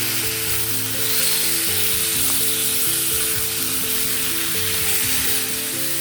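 Leftover chicken sizzles loudly in a hot pan while being stirred, a close, continuous frying hiss with scraping turns and no talking.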